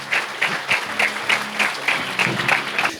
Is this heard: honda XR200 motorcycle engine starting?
no